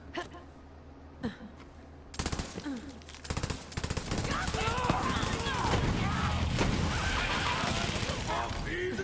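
Shock gun fire in Borderlands 3, a few scattered shots followed by rapid sustained bursts over busy combat noise, with a voice speaking over the shooting.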